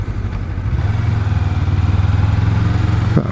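An A2-licence motorcycle engine pulls in 4th gear as the clutch is let out, a steady low, throbbing drone that firms up and holds even, close and fairly loud, with no talk over it.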